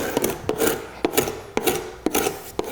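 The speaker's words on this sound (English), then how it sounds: "I'm going to sand this all" Sandpaper rubs back and forth over a painted wood surface in steady rhythmic strokes, about five per few seconds, close and moderately loud with no talk.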